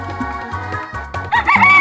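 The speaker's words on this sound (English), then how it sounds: "Rooster." A rooster crows loudly near the end, a rising, strained call that follows a few low clucks over a steady low hum.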